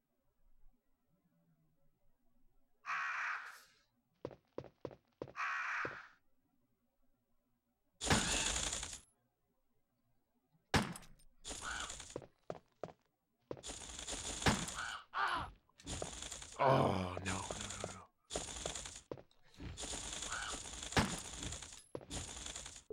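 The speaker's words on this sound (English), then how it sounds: "Freaking birds!" Birds in the video game Resident Evil caw in repeated loud, harsh bursts separated by silences, mixed with sharp cracking impacts.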